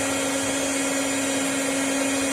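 An electric mixer whips butter with a custard mass for a cake, holding a steady, loud motor whine with a strong constant hum and no change in pitch.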